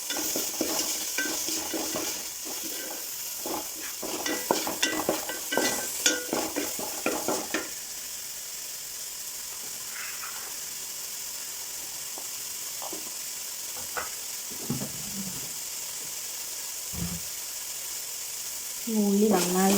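Onions with a pinch of salt sautéing in a pan, a steady sizzle with clattering stirs and scrapes that are busiest early on, then quieter frying with occasional knocks of the spoon.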